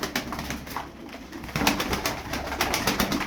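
A female Arab play pigeon coos nearby in a series of soft, rhythmic calls over a background hum, with no one speaking.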